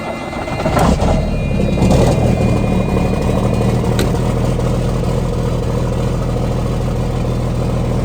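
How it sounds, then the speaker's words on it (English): A truck engine with an exhaust leak idles steadily at close range, a rough low rumble holding even throughout with a slight lift near the start, no talking over it. "Got a little bit of an exhaust leak."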